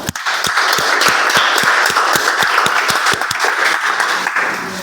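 Audience at a Toastmasters club meeting clapping to welcome a Toastmaster, a loud, close round of applause with distinct rhythmic claps that holds steady and then fades slightly at the end.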